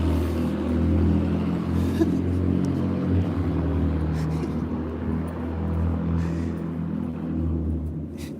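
A loud car drives past on a street, its deep engine rumble swelling and fading over several seconds with a steady low roar and faint distant noise.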